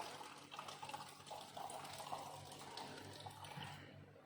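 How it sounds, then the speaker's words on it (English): Tap water runs steadily into a container for a lab strawberry DNA extraction, a continuous close-up splashing fill with no voices. "We're going to fill it with tap water."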